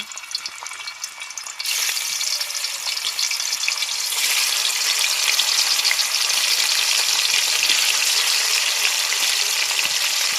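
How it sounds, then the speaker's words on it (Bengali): Turmeric-coated snakehead (shol) fish pieces sizzle in hot oil in a kadai. A steady crackling fry jumps louder twice as more pieces hit the oil, then holds a dense, close, continuous sizzle with no talking. "তেল গরম হয়ে গেছে, এবার মাছগুলো দিয়ে দেব।"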